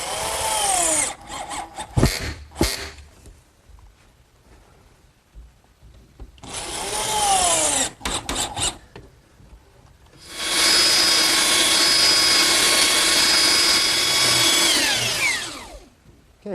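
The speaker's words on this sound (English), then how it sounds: "Okay, that takes care of rounding the corners." A power tool, likely a router, rounds the corners of a wooden harvest tabletop in three loud, close bursts: two short runs, then a longer sustained whine that holds steadily before winding down, with quiet gaps of shop ambience between.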